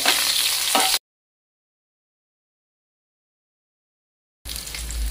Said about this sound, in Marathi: ही ढोबळी सुद्धा आपण या तेलावरती परतून घेऊयात